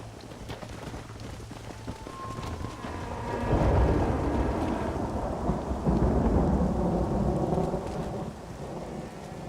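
A thunderstorm with steady rain in Red Dead Redemption: a deep thunder rumble swells and rolls on over continuous rainfall, loud and enveloping, with no talking.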